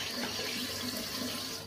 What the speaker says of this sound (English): It's the water now I'm trying to wash the soap off my hands with.